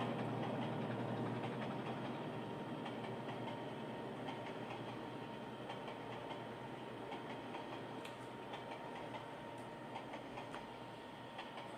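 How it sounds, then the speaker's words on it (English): Southern Pacific 4449 hauling a train of boxcars past a railroad crossing, heard as a steady low rumble of rolling cars with faint clicks of the rails, distant and even throughout. "The train continues to pick up speed as it passes through a railroad crossing."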